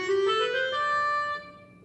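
A keyboard plays a single sustained clarinet-voice note in the low register, reedy and clear. It swells briefly, then fades out after about a second and a half.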